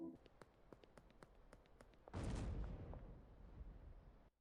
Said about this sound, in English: this explosion was our RV